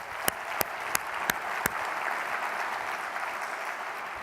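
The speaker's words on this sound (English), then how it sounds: "Let's give Tim one more round of applause." Sustained audience applause for a keynote speaker at a sales summit, a steady crowd of clapping hands with a few sharp, louder claps standing out near the start.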